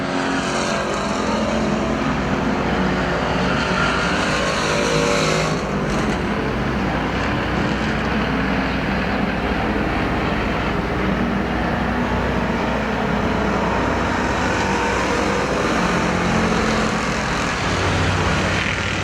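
Factory stock race cars roar around the Perris Auto Speedway oval during a main event, a continuous loud engine drone with a brief surge near five seconds and steady track noise throughout.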